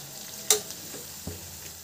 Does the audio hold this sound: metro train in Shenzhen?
no